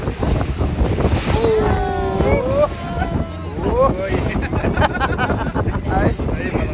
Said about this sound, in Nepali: ल पुरै छालै छाल क्या यो। यही छाल जान्छ।